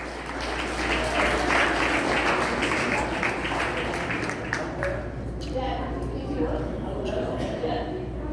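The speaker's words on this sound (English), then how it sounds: "Let's get a round of applause." Supporters clap at a Scarborough municipal campaign launch for a Ward 25 candidate, moderate applause under a low hum with people talking over it, the clapping thinning toward the end.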